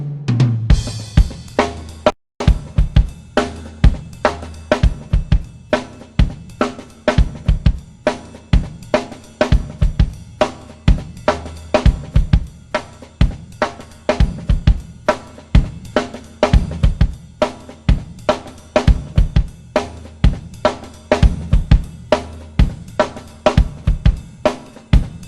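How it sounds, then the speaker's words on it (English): A funk drum groove from a flute solo section, played solo and loud: a steady, busy pattern of crisp snare and hi-hat hits over kick drum across the whole stretch. "The second groove that I play in the song, again, is during the flute solo"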